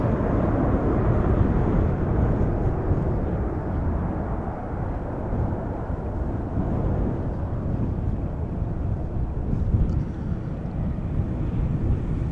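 An airplane engine roars in a deep, steady rumble at Amsterdam Schiphol Airport, loud and close, with some wind noise and no talking.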